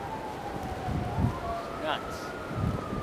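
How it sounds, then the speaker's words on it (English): Sirens wail in the distance during a 2011 blizzard at night, a thin rising and falling tone carried over gusting wind and snow noise. A person speaks briefly nearby. "there's so many sirens going off now."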